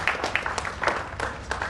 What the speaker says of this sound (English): Can we have a round of applause for Sumita Datta?